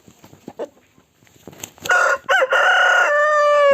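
A rooster crows loudly and close by, a long drawn-out call after some soft rustling and faint clucks.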